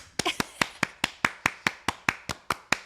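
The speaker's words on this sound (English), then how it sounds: "everybody clap your hands." A few people clap in unison, about thirteen crisp, evenly spaced claps in a steady rhythm, close and distinct with short decays and quiet between them.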